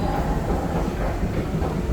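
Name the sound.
New York subway 7 train platform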